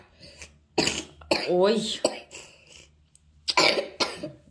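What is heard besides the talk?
child coughing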